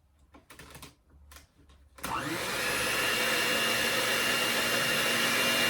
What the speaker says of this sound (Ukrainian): Блендером.